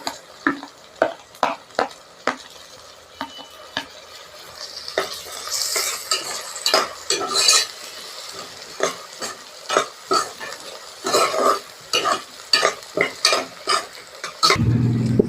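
Shallots and tomato sauté in a pan for mutton curry: a soft sizzle runs under repeated close spatula scrapes and clanks in a steady stirring rhythm.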